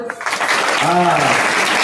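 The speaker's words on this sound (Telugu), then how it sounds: "చప్పట్లు కొట్టండి ఒకసారి." Audience applause at a Telugu church sermon: a burst of clapping from a crowd, fairly loud and continuous, with a voice speaking over it partway through.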